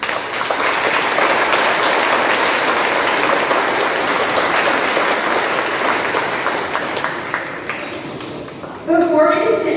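Crowd applause fills a high school homecoming coronation, a dense steady roar of clapping that keeps up for most of the stretch before easing, with a voice starting to speak over the tail end.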